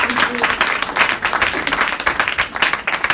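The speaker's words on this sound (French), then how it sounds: "Les acclamations timides pour la parole de Dieu." A church congregation gives a short, modest round of applause, with soft steady clapping and a faint murmur of voices underneath.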